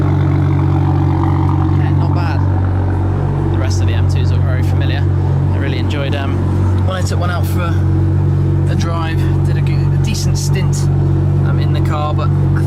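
An AC Schnitzer ACL2, a BMW 2 Series fitted with a 570 hp M4 engine, runs through its cold start with a loud, steady, deep resonant drone that holds throughout while someone talks over it.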